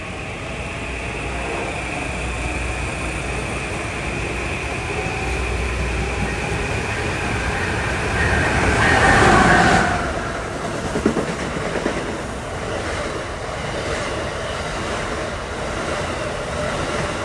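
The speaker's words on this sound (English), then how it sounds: "This is 1363 from Stamford to Grand Central departing." A Metro-North New Haven Line train departing Stamford station rumbles steadily close by. The wheel noise swells briefly in the middle with a passing hiss and rattling clatter, then settles back to a continuous roll.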